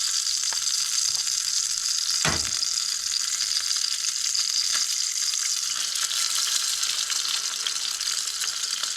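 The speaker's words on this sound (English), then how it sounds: "okay, let me add this egg." An egg frying in a pan on a wood stove in a canvas tent, a steady loud sizzle throughout with one brief clunk of the pan early on.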